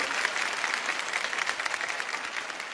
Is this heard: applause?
yes